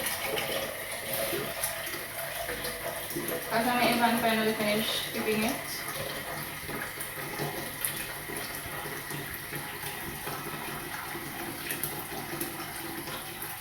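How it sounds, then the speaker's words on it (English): Tap water runs steadily into a cooking pot at a kitchen sink, filled before ackee goes in. The splashing is close and continuous, under a person talking. "I'm actually getting some water into the pot for the ackee since I'm already at the sink."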